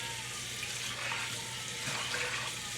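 Tap water runs steadily into a basin, a continuous close hiss of flowing water with no pauses and no voices.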